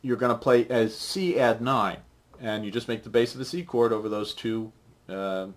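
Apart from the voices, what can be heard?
No everyday noises stand out.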